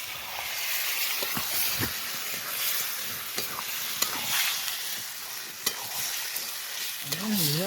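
Meat fries outdoors in a field, a steady sizzle broken by repeated clattering stirs of a utensil in the pan, close and busy, with a short wavering tone at the end.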